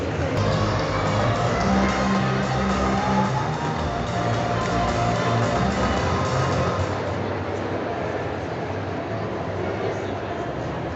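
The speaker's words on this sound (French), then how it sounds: "Je vous demande de l'applaudir bien." A crowd at a Paris manga cosplay parade cheers and applauds a Snow White cosplayer, a dense, steady roar of clapping and shouting voices that runs throughout and eases slightly toward the end.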